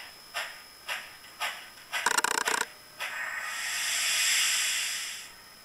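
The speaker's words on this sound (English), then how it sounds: "Blow down is 53." A Soundtraxx Tsunami sound decoder in an N scale Life-Like 2-8-8-2 steam locomotive gives a few sharp chuffs, then a long rushing steam blowdown hiss that swells and fades over a couple of seconds.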